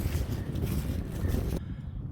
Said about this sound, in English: Sorry about the wind, it's getting windy.